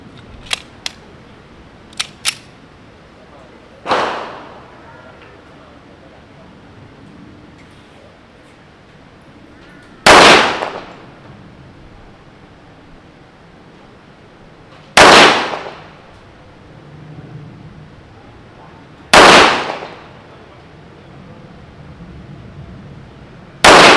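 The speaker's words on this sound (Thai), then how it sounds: "เดี๋ยวเรามาลองยิงเป้ามาตรฐานนะครับ ที่ ระยะ ประมาณ 10เมตรนะครับ ด้วย กระสุนซ้อมนะครับเซมิวัตคัตนะครับ" Taurus PT 1911 stainless custom pistol firing practice semi-wadcutter rounds at a standard target 10 m away, four loud sharp shots at uneven intervals with a few faint clicks before them.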